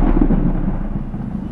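A continuous low rolling rumble of thunder during a storm, loud and sustained with no talking.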